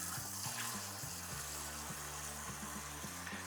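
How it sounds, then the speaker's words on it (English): Filtered water pours steadily into a home brew fermenter being topped up to 23 litres, a continuous hissing, splashing stream, close and fairly quiet, with no talking. "So in goes my filtered water"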